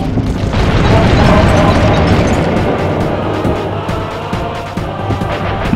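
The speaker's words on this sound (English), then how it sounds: "My missiles don't hurt him, but seem to create holes in his armor." Missiles exploding in the video game Sly Cooper, a loud rumbling barrage of booms and bursts that rolls on continuously and slowly dies down.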